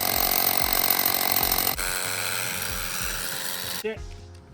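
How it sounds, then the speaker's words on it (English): A loud Milwaukee SDS Max rotary hammer drill chatters and grinds continuously, its pitch shifting twice as the bit bites into asphalt pavement. "Okay, drilling into asphalt."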